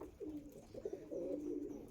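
Andhra Star Kalanka pigeons coo in low, rolling phrases, close by, with a few soft repeated calls over a quiet background.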